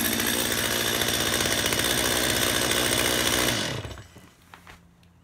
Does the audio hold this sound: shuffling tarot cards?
no